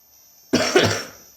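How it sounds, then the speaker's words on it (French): One sharp, close cough bursts out after a quiet moment, followed by a short rough second push that fades away. "Excusez-moi si je tousse"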